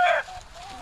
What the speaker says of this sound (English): he ended up being a rooster, and I didn't know it until he started crowing the other day